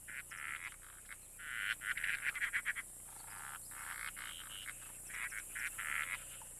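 Frogs in Madagascar call during a brief mating season, rapid trilling croaks in repeated bursts from several animals, moderately near against a soft hissing night background.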